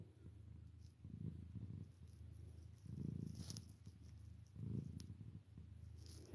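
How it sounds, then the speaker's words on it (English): A cat purrs softly up close in slow, rhythmic waves, each rumbling breath swelling and fading, with faint background sounds around it. "this cat, she's so affectionate"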